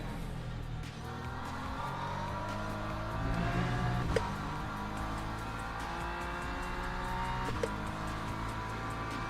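LMP2 prototype race cars howl around Sebring in a racing video game, a continuous dense engine roar with shifting pitch, occasional tire squeal and a couple of sharp knocks.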